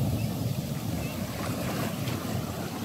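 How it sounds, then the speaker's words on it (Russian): Storm surf rolling in at high tide on Karon beach, Phuket, Thailand: a continuous loud roar of waves breaking close by, with steady wind rumble on the microphone and no let-up. "Вот это волны!"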